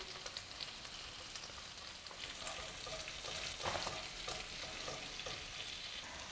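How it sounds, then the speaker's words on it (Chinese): Shacha sauce stir-fried with softened scallions in a pan for a sand-pot fish head dish, a soft continuous sizzle with scraping stirs and a few louder crackles, fairly quiet and with no talking. "葱软了，沙茶酱放进来炒香。"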